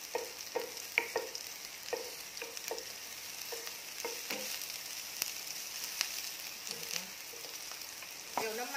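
Vegetarian glass noodles and textured soy protein stir-fried over medium heat, with a steady oily sizzle broken by repeated scraping and clacking strokes of a spatula against the pan.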